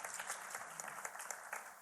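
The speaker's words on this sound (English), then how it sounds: "Let's give him a round of applause" Applause from a crowd at an inauguration, a steady patter of many hands clapping, fairly soft and distant, with no voices over it.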